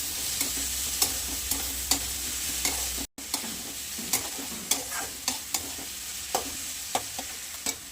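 Chopped tomato sizzling and frying in a pan while a utensil stirs it, a steady hiss with regular scraping taps, briefly cut to silence near the middle; no talking.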